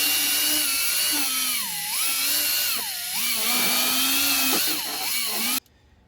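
A power drill bores out a larger cable hole during a Chevy rebuild, a loud continuous whine whose pitch sags and recovers under load, then cuts off abruptly near the end.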